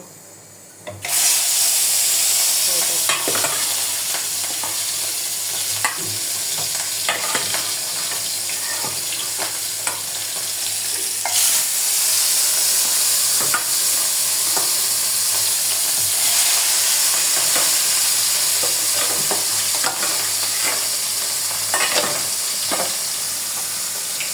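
Fish marinated with turmeric fries in a pan with a loud, steady sizzle, and occasional clicks and scrapes of stirring come through nearby over a long stretch with no talk.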